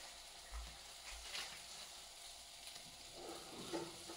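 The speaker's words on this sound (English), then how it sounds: "bacon sizzling" Quiet, steady sizzle of bacon frying in a pan, with a few faint clinks and stirring sounds, no voices.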